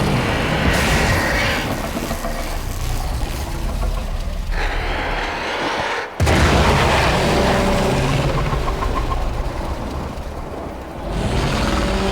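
A loud, sustained roar of an explosion in the video game Warframe, set during the Heart of Deimos quest, dense and rumbling, breaking off abruptly midway before surging back at full force.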